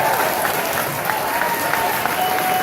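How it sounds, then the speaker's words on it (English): A political rally crowd breaks into applause during a Bill Clinton campaign speech, a dense, loud wash of clapping filling the room briefly, with a faint murmur of voices underneath. "I'm glad somebody wants to clap about it"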